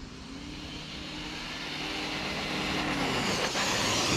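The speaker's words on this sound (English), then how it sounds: "Man, that is a fast TRX4." A Traxxas TRX4 RC truck running fast in high gear on oversized wheels, its electric motor whine climbing steadily in pitch and loudness as it speeds away, heard alone without talk.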